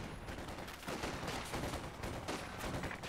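Sustained battlefield gunfire in the World War II strategy game Company of Heroes 2, with overlapping rifle and machine-gun bursts in a steady, loud rattle from start to finish.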